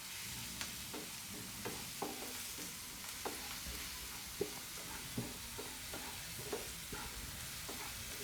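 Onions and garlic paste sauté over a high flame, a faint steady sizzle broken by regular light stirring taps against the pan roughly every half second.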